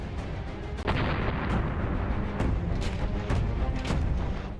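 Loud, continuous barrage of booming artillery blasts from M777 ultra-light howitzers in hilly terrain, with repeated sharp reports and rumbling echoes close together over a few seconds.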